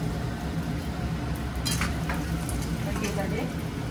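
Raisins frying in a pan for ragi laddoos, giving a steady low sizzle throughout with a few light stirring scrapes, close and moderately loud, with no talking.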